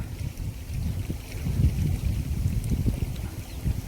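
Strong morning wind buffets the microphone outdoors in a continuous low, gusting roar that swells and eases without pause.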